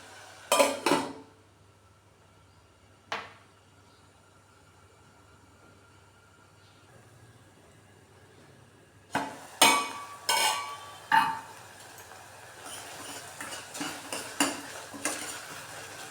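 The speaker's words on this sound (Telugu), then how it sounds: "టమాటా లైట్గా ఇట్లా మెదిపేసుకుంటే మొత్తం లోపలికి గుజ్జంతా వచ్చేసి" Tomatoes mashed and stirred in a pan on medium flame for an egg dish, sparse sharp scraping and knocking strokes against the pan, a lone clank, then a long quiet stretch before a busier run of close, rhythmic scrapes and taps.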